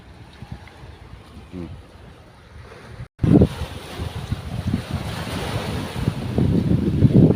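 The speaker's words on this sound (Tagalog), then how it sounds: "Medyo may linggak pa rin ang dagat." Sea waves surge and wash under strong afternoon wind out at sea on the Philippine coast. Heavy microphone buffeting and rough surf roar close and loud after a brief quiet break, building toward the end.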